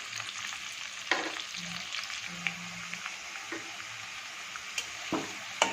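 Potato pieces frying in oil with salt and turmeric for a Bengali fish curry with cauliflower, giving a steady, close crackling sizzle throughout, broken by a few sharp clicks and scrapes of a utensil stirring the pan, with no talking.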